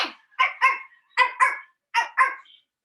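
A small dog gives three pairs of sharp, high barks, close by, with brief silences between each pair.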